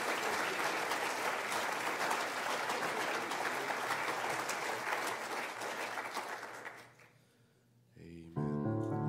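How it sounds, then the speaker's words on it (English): A church congregation claps in praise at a Sunday morning service, a dense, loud wash of hand claps that fades out near the end before organ or keyboard music comes in. "Won't you give him a hand clap of praise this morning?"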